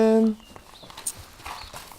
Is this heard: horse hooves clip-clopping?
yes